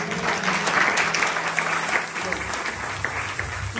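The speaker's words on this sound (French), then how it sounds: "Est-ce qu'on peut acclamer pour la première histoire?" A church congregation applauds after the first story of a sermon, steady, dense clapping from a crowd filling the room throughout, with no talk over it.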